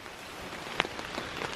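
Rain falls on a tent at a wild bushcraft camp, a steady close patter with a few sharper individual drops striking the fabric.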